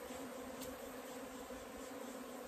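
Honey bees buzz in a continuous, even drone at a steady moderate level, with no talking over the hum.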